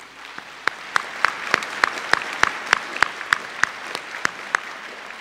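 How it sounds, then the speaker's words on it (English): Audience applause at a school pops concert, a steady wash of clapping with a few sharp, louder claps standing out at regular intervals, close and sustained for the whole stretch. "a huge round of applause to Dr. Gifford"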